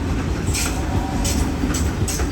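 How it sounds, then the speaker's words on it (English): Steam locomotive 3526, about to depart at a heritage railway expo, sends out a few sharp bursts of hissing steam over a continuous loud rumble. "a locomotive about to depart"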